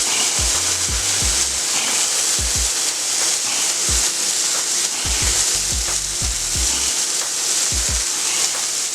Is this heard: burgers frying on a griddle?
yes